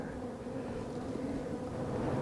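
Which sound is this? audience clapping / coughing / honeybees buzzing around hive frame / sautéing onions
honeybees buzzing around hive frame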